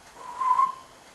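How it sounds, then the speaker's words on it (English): A railway guard's whistle at a Tasmanian level crossing gives one short, steady, shrill blast, swelling in and fading out over about a second, heard alone. "the guard blew his whistle"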